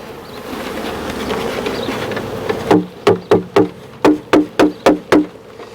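A honeybee swarm hums loudly as it is shaken into a small hive, the dense buzzing followed by a run of about nine sharp, evenly spaced knocks as the box is tapped.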